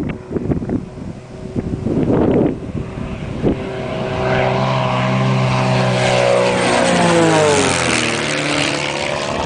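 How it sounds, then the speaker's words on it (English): A Giles 202 aerobatic propeller plane makes a low pass, its engine and prop roar swelling loud overhead with wind buffeting, then the pitch sweeping down as it passes and recedes. "Here comes Barry Thighan, the world's most amazing acrobatic pilot, in his Giles 202"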